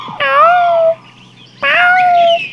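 A cat meows twice in a bedtime fairy tale about a clever mouse, two drawn-out, clear meows each close to a second long, separated by a brief pause and with no voice over them.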